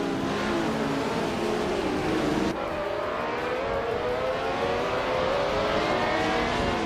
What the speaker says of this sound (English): The race kicks off at Magione's short track, and Neve is on pole, driving a classic 1967 McLaren M5.